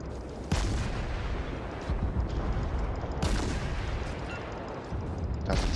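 Naval gunfire striking a ship in World of Warships, with dense, rumbling cannon booms and blasts layered over a constant roar of battle, several louder impacts standing out, and no talking.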